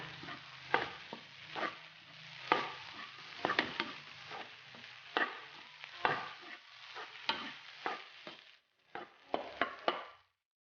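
Homemade fried rice being stirred in a frying pan, with repeated scraping strokes and clinks at an uneven rhythm over a steady close sizzle, and no voices.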